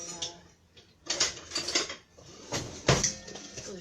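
Spoon scraping and clinking inside a bowl while stirring water brine for kimchi, close and irregular, a few sharp metallic knocks between softer swishing strokes.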